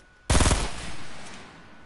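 Sudden burst of rapid video game gunfire on PS4, a loud close volley of tightly spaced shots that cuts off and fades into a lingering rumble.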